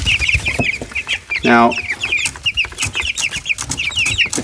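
Young chickens in a warm brooder, steady overlapping clucks and peeps close by, with one louder squawk partway through and a brief word spoken over them.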